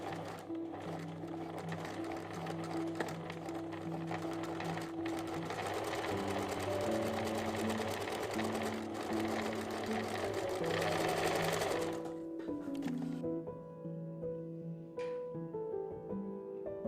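Home sewing machine stitching a French seam on a small fabric drawstring pouch, a close, steady mechanical whir with rhythmic needle chatter running in bursts, then slowing and stopping near the end.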